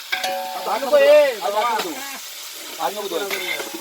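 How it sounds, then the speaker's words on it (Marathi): Chicken sizzles as it is tempered in a hot pan beneath a voice, the soft hiss of frying running steadily under his talk. "हे बघा चिकनला फोडणी द्यायचं काम चालू आहे."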